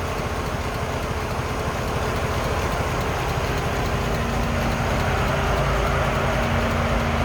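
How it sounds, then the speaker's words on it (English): A 1941 Ford pickup street rod with a tri-power carbureted engine idles smoothly, a steady low rumble that stays constant and close for the whole stretch, with no talking over it. "Smooth running engine."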